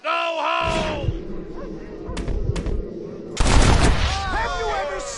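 Gunshots in the Red Dead Redemption video game, with a loud close blast near the start, a few sharp cracks in the middle and a bigger booming report later, while someone speaks throughout.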